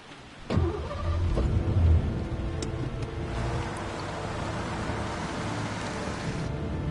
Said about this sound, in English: Gonna hop in my cute little FBI car and skedaddle.